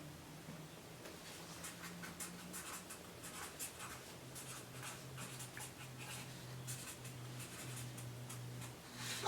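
Pen or pencil scratching on paper, soft and close, in short irregular strokes over a faint low hum, with no one talking.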